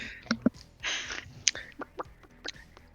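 Chickens cluck and squawk in a short run of quick, fairly close calls outside an orphanage where small children are running around, with no talking.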